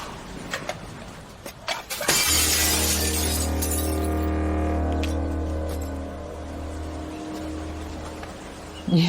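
A handmade glass piece with a seaweed design, flawed by an air bubble, is smashed. After a few light knocks it breaks in one loud crash, followed by long, ringing tones that slowly fade away.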